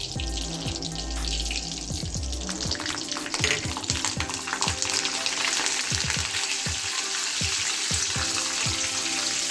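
Whole cumin seeds and curry leaves crackling and sizzling in hot oil for a Bengali ghugni, with a steady loud fry, scattered sharp pops and a faint clink of stirring, no voices.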